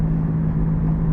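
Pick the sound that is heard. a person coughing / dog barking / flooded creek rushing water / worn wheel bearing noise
worn wheel bearing noise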